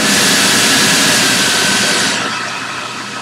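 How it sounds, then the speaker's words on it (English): Steady, loud roaring whoosh of a kitchen exhaust fan running close by, broadband and constant, easing slightly softer toward the end. "remember Yaya with her exhaust fan? I gotta turn that on."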